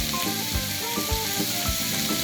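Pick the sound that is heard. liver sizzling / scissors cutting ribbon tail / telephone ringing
liver sizzling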